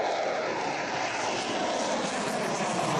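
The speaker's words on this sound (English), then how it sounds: "And even more planes." Steady drone of a small airplane engine at an airport during an aviation and aircraft maintenance camp, loud and close, holding an even roar throughout with no talking.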